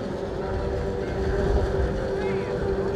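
JT250 class youth racing speedboats at a Liepāja season-finale race, their outboard engines droning steadily at full throttle on the water, loud and continuous, with no speech.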